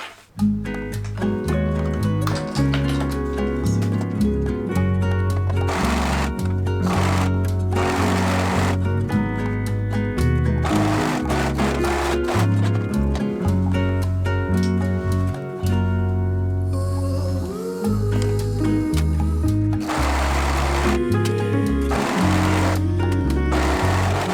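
A sewing machine stitches fabric for a shopping bag made from scrap fabrics, a loud, close, continuous mechanical whirr and clatter with short pauses and changes of pace, no voices.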